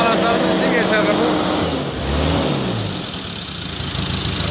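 Diesel car engine idling steadily after air was bled from the injectors, a close low rumble running throughout with a person talking over it.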